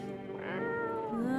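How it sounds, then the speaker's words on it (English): A pet cat in the video game No, I'm Not a Human gives a single drawn-out meow, close and clear, with a rising, wavering pitch. "Reach out and pet the cat."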